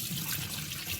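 Lentils are rinsed in water, giving a brief, faint, close hiss of running and sloshing water.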